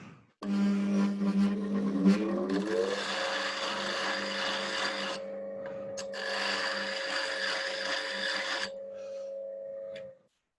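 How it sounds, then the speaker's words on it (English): Bench grinder spinning while a woodturning parting tool is sharpened, a steady motor whine with bursts of harsher abrasive grinding as the tool meets the wheel, then winding down. "I think I'll just touch that up on the grinder."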